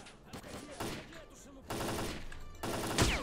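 Gunfire in the video game S.T.A.L.K.E.R.: Clear Sky: a few sharp shots and short bursts in uneven clusters, fairly close, mixed with game noise and no talk.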